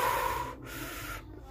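A man in the horror film Ice Scream breathes strangely, giving a strained snort and gasp followed by steady rough breathing close up, with no voices.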